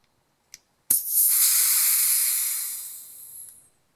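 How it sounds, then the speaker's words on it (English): Pressurized gas hisses out of a WD-40 aerosol spray can in one loud, steady burst lasting nearly three seconds before tapering off, preceded by a faint click. "Let's let the pressure out of this one."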